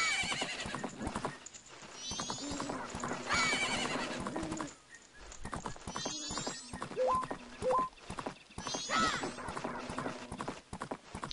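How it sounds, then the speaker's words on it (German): In Zelda: Majora's Mask, the horse Epona gallops in a steady clip-clop rhythm with repeated neighs and whinnies, joined by game sound effects, fairly quiet overall. "So, Epona, wir reiten ins Städtle."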